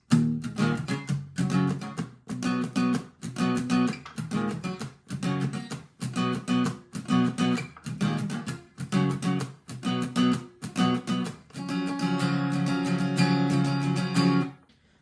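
Steady rhythmic guitar strumming in the verse of a song, alternating choppy, palm-muted chugs with open strummed chords, ending on a longer ringing strum.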